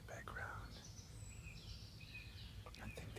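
Faint birdsong and thin chirps drift in the distance over a low, steady outdoor rumble, with soft murmuring voices, beside a forest stream.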